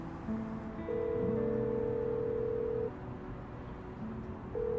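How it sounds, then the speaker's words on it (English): A phone call in the game Love and Deepspace rings out unanswered, steady electronic ringback tones repeating at an even pace, fairly close and alone with no voices. "I try calling Caleb, but he doesn't answer the phone after 2 rings"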